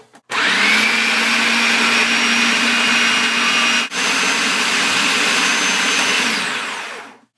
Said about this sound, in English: Okay, let's blend this bitch.